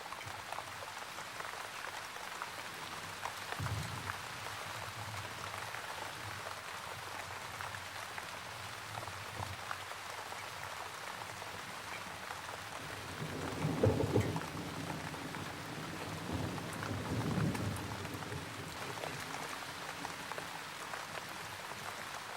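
Steady rain falls during a thunderstorm in the Karoo semi-desert, a continuous hiss of drops with low thunder rumbling faintly in the distance and swelling into heavier rolls later on.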